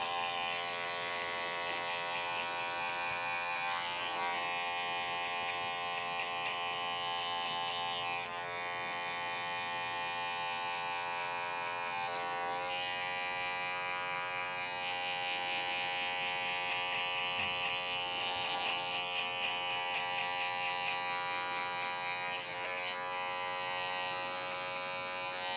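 A hair clipper buzzes steadily and loudly for the whole stretch of a haircut, a constant electric hum with slight wavering as the blades move along the head, no voices over it.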